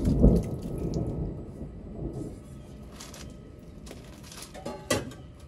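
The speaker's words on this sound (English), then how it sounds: "y'all hear that thunder" Low thunder rumbles through steady rain, with a few sharper cracks breaking through the wash of noise.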